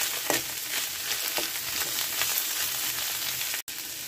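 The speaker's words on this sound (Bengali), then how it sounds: "এগুলো একসাথে আমি ভেজে একটু ক্রিস্পি করে নেব" Dried red chillies and five or six whole garlic cloves fry in hot oil with a steady close sizzle and a few light stirring taps, cut by a brief dropout near the end.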